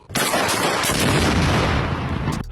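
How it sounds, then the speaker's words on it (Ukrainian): A loud, sharp shotgun blast fired at a drone erupts and rings out briefly, dense and booming, with no voices. "вискакують з машини та влучно стріляють по ньому з рушниці"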